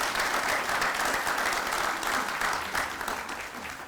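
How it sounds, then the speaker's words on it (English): A round of applause from the crowd at a school district career and technical education grand opening: continuous, full clapping that holds steady and tapers a little toward the end. "If you want to give him a round of applause"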